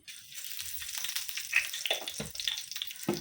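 Black cumin seeds and a dried red chili crackle in hot oil, with a soft sizzle and a few sharp pops and utensil knocks close by, with no voices.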